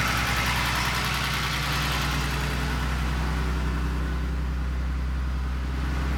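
A 1980 Mercedes-Benz 280SL European-spec car engine idles steadily nearby, a smooth low rumble with a faint even pulse and no voices.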